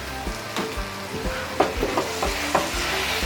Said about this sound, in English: now once you get your ground meat cooked down real good to where it looks like this